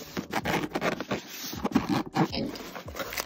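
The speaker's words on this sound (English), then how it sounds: "it comes with double zippers. Let's open it up." Double zipper on a hard-shell Amika hair curler case being opened: close, loud ratcheting zip pulls in several quick strokes with scraping between them.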